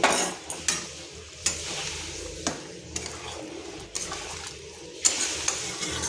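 Potato and pointed gourd curry bubbling in a pan, with a steady low sizzle broken by several sharp scrapes and knocks of a spoon stirring against the pan.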